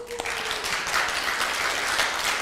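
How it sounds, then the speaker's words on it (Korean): A church congregation applauds to thank a deacon, with dense steady clapping from many hands that holds at an even level throughout. "우리 오정훈 집사님 박수 한번 해드려요"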